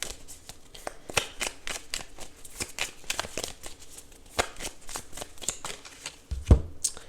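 Tarot cards shuffled by hand in a steady flurry of crisp riffles and slaps, close and fairly loud, with a firmer knock near the end; no voices.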